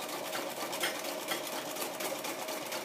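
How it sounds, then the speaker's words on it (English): A domestic sewing machine stitching a hexie star quilt with a stepping stone template, a steady fast needle whir running evenly and close throughout with no talk. "Now I'm going to slide my template to position 2, and I'm going to stitch again"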